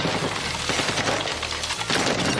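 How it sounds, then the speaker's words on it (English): Rapid gunfire from a slow-firing gun in a multiplayer video game, dense continuous bursts with booming low thumps throughout, loud and close. "Oh, that gun is so slow."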